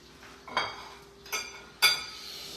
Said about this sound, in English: Get this plate.